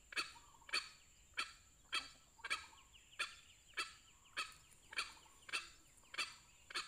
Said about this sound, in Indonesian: Ini babon tuh